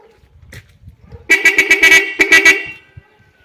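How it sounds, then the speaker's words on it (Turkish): A newly fitted car horn on a Volta blares in a rapid burst of short honks followed by a second quick cluster, loud and close, after quiet background shuffling. "Benim arabadan iyi çıkıyor korna."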